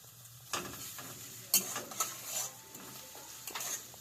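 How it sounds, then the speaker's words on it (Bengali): Onions go into not-yet-hot oil in a pan while cabbage and chicken momo filling is being made. A soft sizzle runs throughout, broken by a few close stirring scrapes and utensil clinks against the pan. "পেঁয়াজগুলো ছেড়ে দিচ্ছি। তেলটা গরম হয়নি, বললামই তো।"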